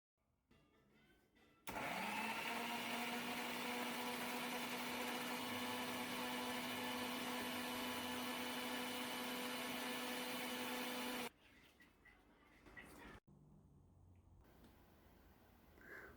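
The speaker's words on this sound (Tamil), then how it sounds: "மிக்ஸியில் 2 நிமிஷத்துக்கு லோவில் வச்சு" An electric mixer blends eggs and sugar, whirring steadily at low speed for about ten seconds, a close motor drone that stops abruptly, followed by quieter clinking.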